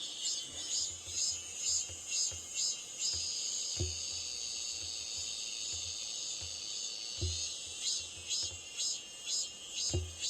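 A cicada chirps outdoors in a repeated pulsing buzz, its rhythmic bursts rising and falling steadily, with occasional low knocks in the background.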